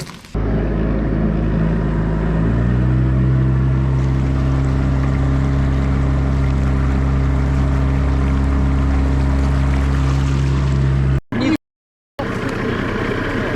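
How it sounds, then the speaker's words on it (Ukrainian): A boat's outboard motor hums steadily and loudly throughout a fishing trip on the water, a constant low drone that shifts slightly in pitch, with a brief cutout near the end. "там мотор гудів на всю эту"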